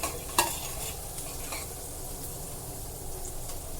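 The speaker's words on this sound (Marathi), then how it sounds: "तुम्ही बघू शकताय कांदा ब्राऊन व्हायला लागलेला आहे गोल्डन ब्राऊन करायचा नाही आहे लाईट ब्राऊन करायचा आहे" Onions frying in a pan and stirred toward light brown for a peas and potato masala, a continuous close sizzle with a sharp spoon knock early on and soft scraping strokes after, no voices.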